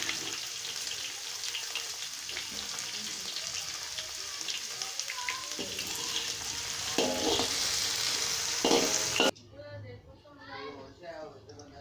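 Slightly wet okra (bhindi) sizzles and crackles in a kadhai of oil for Pakistani-style bhindi sabzi, a continuous loud frying hiss with occasional stirring clatter that cuts off abruptly near the end, leaving quieter background sounds.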